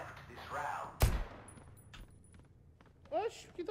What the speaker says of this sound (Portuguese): quem tá me atirando